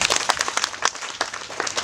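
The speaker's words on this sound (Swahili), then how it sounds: "Mpatieni makofi" Crowd applause at a college graduation ceremony in Wote, many hands clapping densely and steadily for a couple of seconds with sharp individual claps standing out, fairly loud and close.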